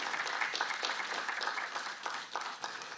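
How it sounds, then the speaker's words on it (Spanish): Applause from the audience at an international political communication congress, dense continuous clapping throughout at moderate distance, with no talk over it. "pido un fuerte aplauso"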